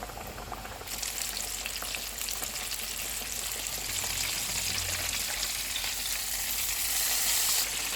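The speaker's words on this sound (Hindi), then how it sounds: "ऑयल गर्म हो गया, अब हम चूल्हे को लो टू मीडियम कर देते हैं और इसमें चिकन का पीस डाल देते हैं" Battered chicken pieces for a crispy chicken burger fry in hot oil over low-to-medium heat, a steady, dense sizzle that swells in a louder burst as the pieces drop in and then holds close and constant.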